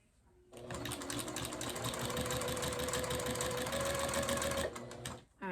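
Sewing machine running steadily as it stitches quilt binding, a continuous close whirring hum for several seconds before stopping abruptly.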